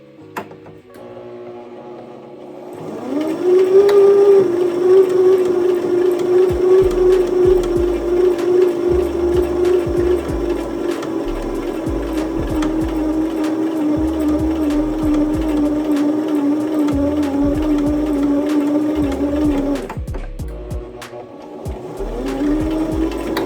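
Sewing machine stitching a zipper wallet, running in a steady continuous whir with a rapid needle rhythm for about seventeen seconds, close and loud, starting and stopping abruptly.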